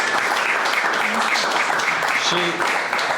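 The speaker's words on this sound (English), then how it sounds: "I'd like to give her a round of applause for the excellent work she's done" Audience applause at an evening talk on northwestern Pennsylvania's early economic history, a dense, steady clapping from a room of people that fills the moment.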